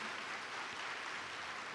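A church audience applauding a pastor's arrival, a soft, continuous wash of clapping heard from some distance with no voices over it.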